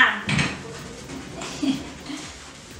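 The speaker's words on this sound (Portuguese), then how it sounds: "Vou pegar um pano limpo e seco para enxugar essa louça já." Dishes and pans being handled at a kitchen sink, with a few close clinks and knocks of crockery and metal scattered over quiet background room sound.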